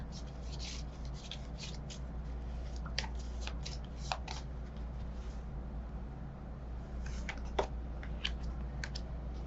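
Tarot cards being shuffled and drawn by hand, a soft, fairly quiet stream of light riffling, rubbing and sliding cards with irregular crisp flicks over a low steady hum, with no talk.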